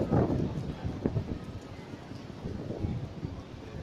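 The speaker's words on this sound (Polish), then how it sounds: "Czy wiatr już nie wieje." Gusty wind blows before a storm, rumbling across the microphone in uneven surges that sound close and fairly loud.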